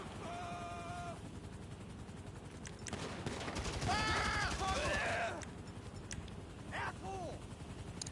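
Gunfire in Grand Theft Auto Online sounds as a few sharp cracks followed by denser bursts of shots mid-clip, mixed with other game sounds and bleat-like tonal calls.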